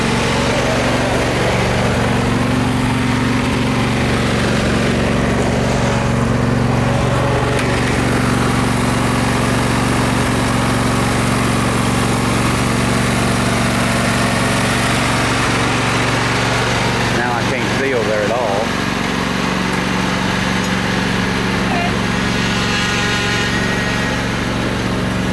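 A lawn mower engine runs steadily throughout at close range, a constant droning hum with only slight variation while a person's voice occasionally comes through over it.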